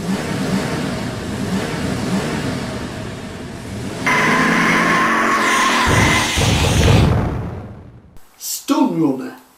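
Driving sounds from the arcade video game Stun Runner, with a loud, sustained engine roar and squealing, rising revs, then a sudden cutoff followed by a short burst of game effects, while someone talks over it.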